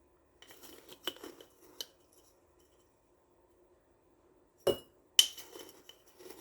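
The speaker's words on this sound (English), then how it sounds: "we want to add 2 tablespoons of that onion soup mix" A spoon clinks lightly against a glass jar as dry onion soup mix is added for a beefy pasta jar meal: a few brief, quiet taps and rattles separated by silence.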